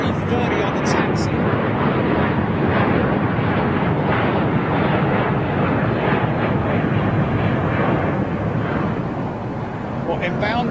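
An Airbus A330 airliner taxiing at London Heathrow Airport gives a loud, steady jet engine roar that holds throughout, with faint talk nearby.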